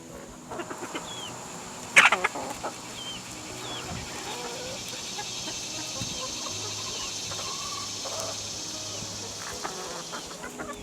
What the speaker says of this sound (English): The chickens are having fun.